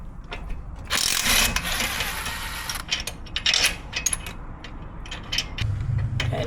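On a Hyundai Ioniq, a wrench works loose the nut on a shock absorber, giving close metallic ratcheting clicks, clinks of tool on metal and short mechanical rattles in uneven bursts, with no voices.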